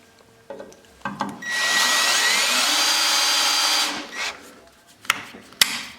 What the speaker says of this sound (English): next we gotta drill the wedge plate out for the wedge